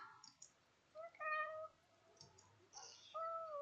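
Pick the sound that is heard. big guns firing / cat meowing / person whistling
cat meowing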